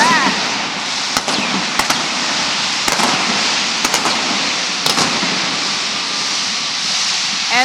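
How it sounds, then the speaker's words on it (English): Indoor fireworks over the captain's float inside the Superdome during a Mardi Gras parade: several sharp bangs stand out against a loud, constant roar of crowd and hall noise. "those are fireworks heralding the captain's float"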